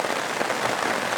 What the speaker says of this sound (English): We got it set up right before this rolling wave of rain came in.